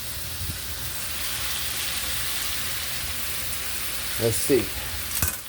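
Beef sizzles steadily in a hot pan for a beef and broccoli dinner, a continuous close hiss with a few sharper crackles and utensil scrapes near the end, where a voice briefly speaks.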